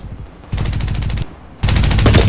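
Two long bursts of rapid automatic gunfire from the shooter game Rogue Agent, loud and dense, with a short lull between them.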